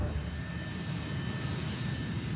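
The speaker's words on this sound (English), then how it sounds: "Flight 587 begins to taxi to runway 31L" American Airlines Flight 587 airliner taxiing toward runway 31L, a steady, moderately loud jet engine drone with a low rumble and a faint constant whine, unbroken throughout with no talk.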